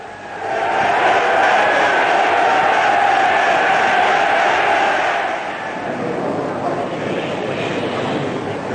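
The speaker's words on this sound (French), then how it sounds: "L'Assemblée réagit immédiatement par des acclamations frénétiques à l'adresse du prince royal." A parliamentary assembly in Belgium breaks into frenzied acclamation for the prince royal, Baudouin: a loud, dense roar of massed voices sustained for about five seconds, then easing to a somewhat lower, steady swell.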